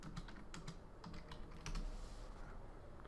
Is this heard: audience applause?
no